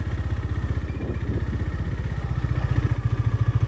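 A motorcycle engine thrums steadily with a fast, even pulse while riding on a road, staying close and loud throughout and growing slightly stronger toward the end.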